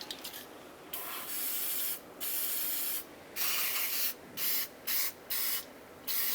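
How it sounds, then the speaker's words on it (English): Rust penetrant spray hisses in repeated short bursts onto the nut and bolt on the back side of a front sway bar link on a 2004-2009 Dodge Durango, close up with brief pauses between sprays. "we're gonna go ahead and spray the nut and bolt on the back side with rust penetrant"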